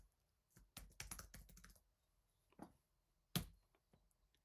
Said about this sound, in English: I'm on a Mac, so I'm using Control, Command and Space to open up my emoji keyboard.